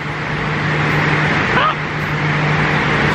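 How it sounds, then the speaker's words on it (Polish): Cooling blowers run in a -35°C cold chamber, a steady loud broadband roar that fills the clip with a constant low hum beneath it. "Ten szum, który słyszycie w tym momencie, to są odpalone dmuchawy, żeby schładzać całą komorę"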